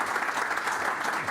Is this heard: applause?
yes